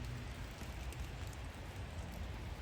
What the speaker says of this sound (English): Like right now it's drizzling and he's here.